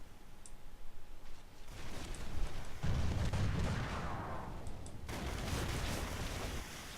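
Ship cannons in Rise of Venice fire in a naval battle, several muffled booms rolling into a low rumble, with faint clicking and continuous background noise between shots.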